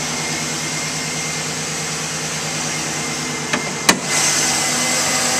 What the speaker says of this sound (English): This truck sounds great and it runs very smooth.